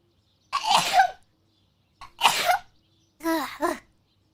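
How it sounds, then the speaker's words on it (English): Three separate sneeze-like bursts from a woman, each sharp and close, spaced over a few seconds, with the last breaking into a short voiced, wavering sound. "Hold on, I have to sneeze."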